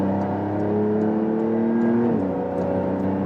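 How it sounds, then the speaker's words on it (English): A Porsche 911 Dakar engine drones at steady revs on the highway, then its pitch jumps sharply as the PDK gearbox downshifts, and it settles into a louder, higher hum. "for example, shifting down myself first"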